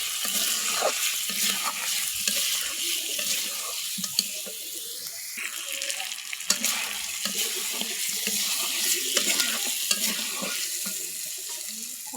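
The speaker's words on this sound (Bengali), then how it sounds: "এখন অল্প একটুখানি পানি দিব।" A little water goes into chicken frying in a pot over a wood-fired stove, setting off a loud, steady sizzle and bubbling hiss that runs close and unbroken, with no voices.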